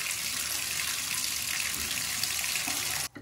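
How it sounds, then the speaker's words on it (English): A shower pressure-balancing valve running water at full flow: a steady, loud rushing hiss that cuts off abruptly near the end. "now we get full water"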